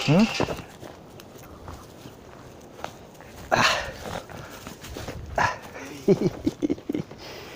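A small dog named Tuco moves about close by, its footsteps and a few short barks and whimpers breaking through, while a person talks over the top of it.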